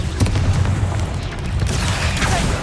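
Confringo spell explosion in Hogwarts Legacy: a loud, rumbling boom with crackling burst texture that sustains for a couple of seconds, close and dense, with no voice over it.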